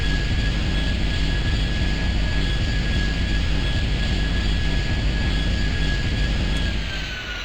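A jet aircraft engine in a video game runs with afterburner, a loud, steady roaring rush with a sustained high whine that holds evenly throughout and eases off slightly at the very end.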